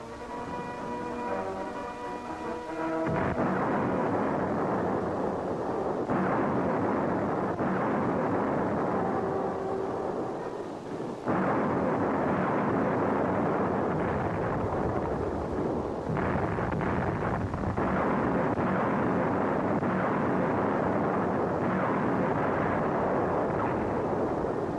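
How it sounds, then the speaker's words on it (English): Intense 1945 artillery bombardment of the approaches to Naha, Okinawa: a dense, continuous rumbling roar of shellfire that rises abruptly after a few seconds and keeps going, with surges and a brief break midway. "a drawn-out siege opens with intense bombardment"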